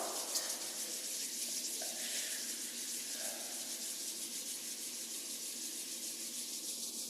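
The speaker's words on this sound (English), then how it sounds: "Rubbing the palms together for the first time right now." Palms rubbed together during a tai chi and qigong practice, a steady, close, continuous hiss of skin friction that runs unbroken throughout with no talking.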